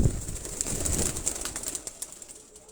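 Flying pigeons kept in a rooftop loft, with a burst of wing flapping and low cooing near at the start, then fading to softer scattered flutters and light bird sounds over a faint background hiss.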